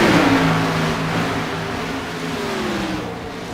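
Race cars battling for the lead on an oval track, engines roaring past close by with a steady rising and falling drone, one car's pitch sliding downward as it passes, no voices over it.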